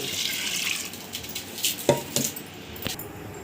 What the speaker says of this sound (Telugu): ఇప్పుడు ముక్కలు మునిగే వరకు వాటర్ పోసుకోవాలి